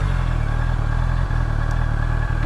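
A 2026 Honda CBR 650R E-Clutch with stock exhaust idles just after starting, a loud, close, steady four-cylinder thrum with a fine mechanical clatter and two brief dips.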